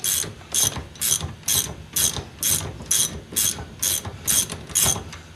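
Ratchet wrench loosening a nut on a Mercedes 300D front end, a close, loud series of about eleven evenly spaced clicking bursts with brief gaps between strokes.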